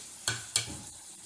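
Chopped fried egg tipped into chicken vegetable pasta in a pan and stirred, giving two sharp scraping knocks against the pan over a faint sizzle, close and brief.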